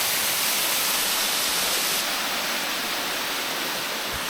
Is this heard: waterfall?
yes